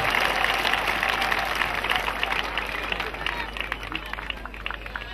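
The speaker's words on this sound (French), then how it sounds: "Applaudissez pour le Seigneur Jésus-Christ encore." Crowd applauding during an outdoor church crusade in Mbouda, a dense steady wash of clapping with murmuring voices mixed in, sustained throughout and easing slightly toward the end.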